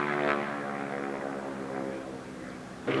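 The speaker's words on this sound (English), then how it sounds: "A little aerobatic performance going on out there by Tony Swain out at center field" North American Harvard propeller plane flying aerobatics over an airshow field, a steady buzzing drone from a moderate distance, rising and falling slightly as the aircraft maneuvers.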